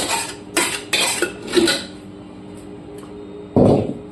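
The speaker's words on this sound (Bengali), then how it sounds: "ফাইনালি প্রেশার কুকার আমি ঢেকে দিলাম" A pressure cooker lid is set and closed over mutton curry with potatoes, giving several sharp metallic clanks and scrapes close by, followed by a louder thud near the end.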